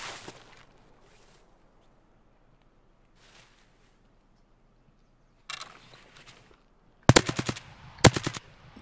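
Gunfire in the shooter game Escape from Tarkov: a long stretch of near silence with faint scuffs, then a few loud, sharp shots ring out close together near the end.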